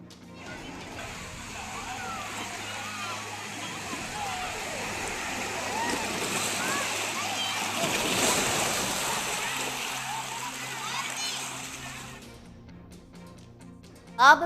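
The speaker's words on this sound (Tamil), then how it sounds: "திருச்செந்தூரில் 100 அடி தூரத்திற்கு உள்வாங்கிய கடல்." Sea at Tiruchendur during a coastal surge, a continuous roar of surf and rushing water that swells toward the middle, with a sharp thump at the very end.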